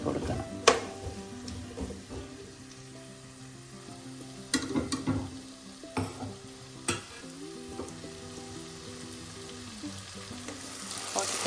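Potatoes fry in oil, a continuous sizzle broken by sharp scraping and clacking strokes of stirring, moderately close and alone.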